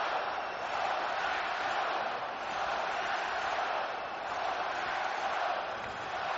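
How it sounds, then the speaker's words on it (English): Sellout hockey arena crowd in Vancouver cheering after a power play goal, a broad, distant-sounding roar that holds steady and fairly faint for several seconds, with no clear talk over it. "A 14th consecutive sellout crowd loving this"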